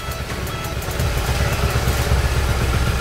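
A motorcycle engine idles steadily while its drive chain is scrubbed clean with a chain brush, a low continuous rumble with faint clattering, close and fairly loud throughout, without talk.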